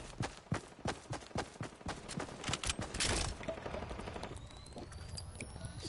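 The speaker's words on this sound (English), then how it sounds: "Ah, I tried to shoot." Rapid gunshots in Fortnite, a quick sequence of sharp cracks in the first three seconds followed by quieter rumbling game noise, fairly faint overall.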